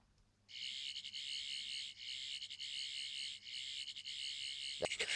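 A Twelfth Doctor touch-control sonic screwdriver toy plays its fourth sound effect, a steady high electronic warble that pulses in repeating bursts for several seconds, with a brief click near the end.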